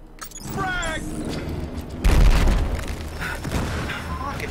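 Frag grenade explosion in the Battlefield Hardline video game: a loud, deep boom bursts in about two seconds in, rolling out over steady gunfire and game noise, with people talking over the top.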